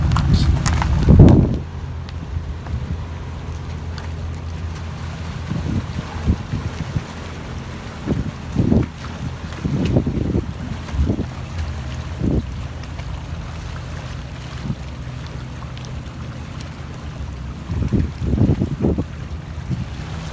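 Motorboat engine rumbling low and steady as it approaches a dock, amid wind buffeting and water sloshing, with occasional knocks and bumps scattered throughout.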